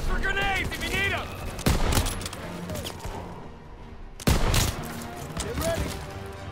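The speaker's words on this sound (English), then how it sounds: "They need cover fire! Suppressive fire! Keep firing!" Gunfire in a Call of Duty WWII battle: dense volleys of rifle and machine-gun shots with two heavy sharp blasts, loud and close, over continuous battlefield noise and shouted voices.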